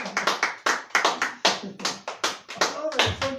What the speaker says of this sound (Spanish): Oh, ese aplauso fuerte